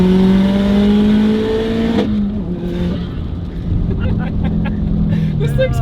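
Subaru STI engine on a dyno, loud sustained revving with a sharp break near two seconds as a gear shift drops the pitch, then climbing again under background talk.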